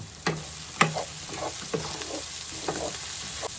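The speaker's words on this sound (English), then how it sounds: "Let's add a bit of salt and pepper and a stir." Broccoli stirred in a sizzling pan after salt and pepper go in: a steady soft frying hiss with a few sharp spoon scrapes and clinks against the pan, fairly quiet and close.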